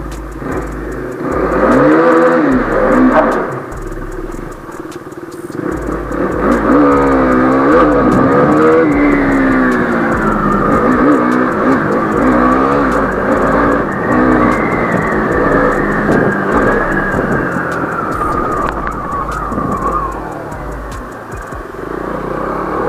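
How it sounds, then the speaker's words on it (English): A car engine revving hard during a burnout, a loud, sustained whining roar that rises and holds for most of the stretch, with tire noise mixed in and no talking. "I did a burnout and I left the location."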